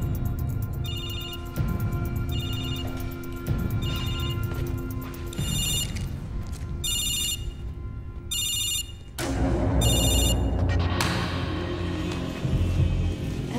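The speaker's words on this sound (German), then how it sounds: "Dein Handy klingelt." A mobile phone rings in repeated bursts of an electronic ringtone, each burst a short, bright warbling pattern separated by brief pauses, sitting over a steady low background hum with no talking.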